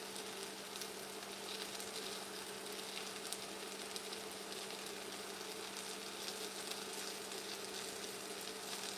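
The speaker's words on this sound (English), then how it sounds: "I'm going to add them to my potatoes with onions and garlic and start frying them too" Potatoes with onions, garlic and torn mushrooms fry in a pan, giving a soft, steady sizzle with fine crackling throughout, quiet and continuous with a faint hum underneath.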